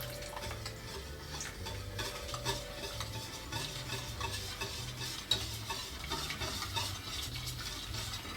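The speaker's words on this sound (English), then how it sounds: "Now that it's sizzling, I'm gonna turn off the heat and I'm gonna stir." Milk stirred over turned-off heat as lemon juice makes it curdle, a steady low sizzle with soft repeated scraping of a spoon, close and quiet, with no talk.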